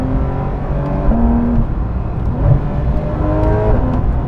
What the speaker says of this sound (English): the noises that this PDK makes